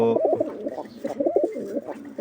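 A pigeon coos close by in repeated soft, throaty rolling phrases with short pauses between them, heard alone at moderate loudness.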